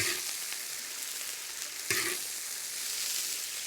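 Scallion, ginger, garlic and chili bean paste stir-fry in hot oil with a steady, close sizzle and a few scraping stirs.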